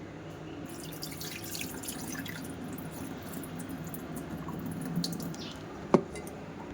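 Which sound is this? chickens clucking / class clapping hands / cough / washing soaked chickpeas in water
washing soaked chickpeas in water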